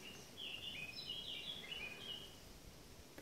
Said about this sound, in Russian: Птицы слышны.